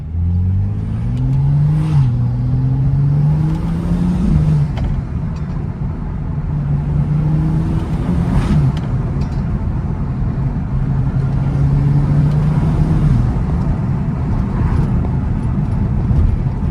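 BMW M235i with turbo spool under acceleration in rush-hour city traffic in Johannesburg, South Africa: a steady loud engine drone with rising tonal sweeps as revs climb, repeated over several pulls, with no talking.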